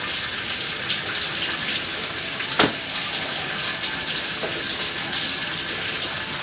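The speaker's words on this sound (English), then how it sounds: "we're going to start the machine and see if we can find where it's leaking" Water gushes steadily into a washing machine as it fills during a hunt for a leak, a loud constant rushing with one brief knock partway through.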